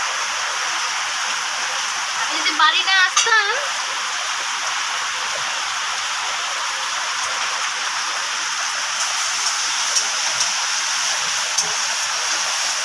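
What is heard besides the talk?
heavy rain falling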